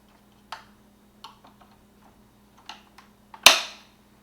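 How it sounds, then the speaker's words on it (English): Small plastic clicks and taps come at uneven intervals as a part of a 1986 Hasbro G.I. Joe Night Raven toy vehicle is fitted, ending in one sharp, loud snap into place close by, over a faint steady hum. "it snaps in nicely"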